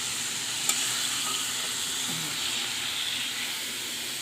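Small tengra fish sautéing in a pan give a steady, close sizzle throughout, with a faint tap partway through and no talking.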